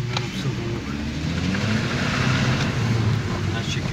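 A car fitted with a new turbocharged TFSI engine accelerates hard on a road test, its steady, loud engine roar running continuously close by, with voices talking over it.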